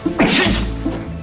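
A single loud, close sneeze from a person who says they are allergic to dogs, a sharp burst with a brief intake before it, heard alone without talk.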